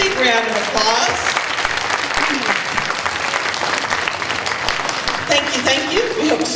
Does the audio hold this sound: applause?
yes